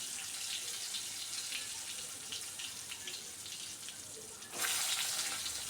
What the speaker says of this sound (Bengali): এবার ওই তেলের মধ্যে বাকি কাঁচা কলাগুলো